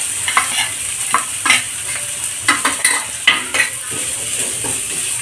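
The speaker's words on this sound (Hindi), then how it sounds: "प्याज को अच्छी तरह से भूंज लेना है। प्याज को चला चला के मीडियम फ्लेम पर अच्छी तरह" Onions frying for sarson ka saag, a steady close sizzle broken by repeated scraping and clinking as a spoon stirs them around the pan.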